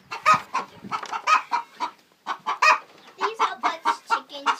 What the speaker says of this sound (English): we keep our chickens that we're breeding over here